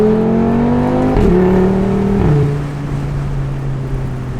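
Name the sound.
tuned Audi RS3 engine revving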